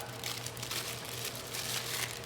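A sheet of parchment paper is crumpled by hand for lining a pie dish, a continuous close crinkling rustle without pauses or talk.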